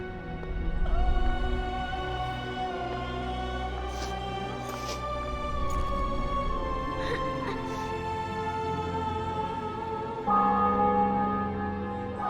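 Bells ring out with sustained, overlapping tones in The Witcher 2 video game, several soft strikes layered over a low rumble that swell again near the end.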